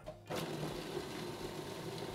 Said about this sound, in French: on va les mettre dans le mixeur, on va les hacher.